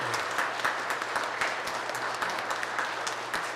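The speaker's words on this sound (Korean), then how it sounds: "우리 환영의 박수 부탁드리겠습니다" Catholic congregation at Sunday Mass in Wondang parish church clapping to welcome newcomers, a steady even patter of many hands in a reverberant hall with a low hum beneath, moderately quiet and sustained.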